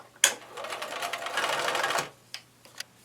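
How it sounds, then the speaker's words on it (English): A sewing machine stitching fabric for a paper-pieced pennant quilt block runs in one close, steady burst of almost two seconds, then a few faint clicks follow. "take it to the sewing machine"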